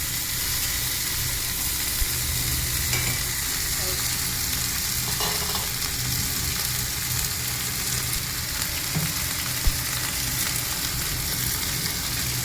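Potato frying in hot oil in a pan for a lentil dish, a steady close sizzle and crackle with occasional faint clinks of stirring.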